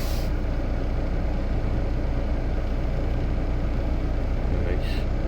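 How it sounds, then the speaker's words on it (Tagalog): A heavy truck at a snowy loading bay in Quebec idles with a steady, loud low rumble, and brief bursts of air-brake hiss come at the start and again near the end. "Yun yung truck niya."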